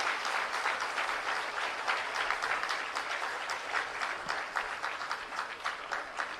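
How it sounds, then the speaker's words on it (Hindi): Audience at a school inauguration for a new academic block gives sustained, loud, even applause that holds steady throughout, with no talking. "आइए एक बार जोरदार तालियों से हम अभिवादन करें"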